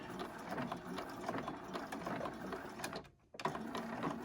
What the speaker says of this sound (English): Put the presser foot back down and finish sewing.